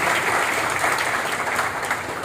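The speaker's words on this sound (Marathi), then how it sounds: "एकदा जोरदार टाळ्या सरांसाठी झाल्या पाहिजे" An audience applauds a guest at a community gathering, a steady dense clapping from many hands that holds evenly throughout.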